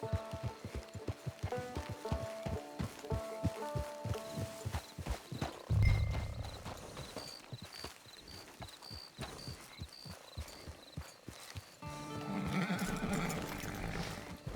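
A horse in the video game Red Dead Redemption 2 whinnies briefly amid steady background music, with rhythmic hoofbeat-like thuds before it.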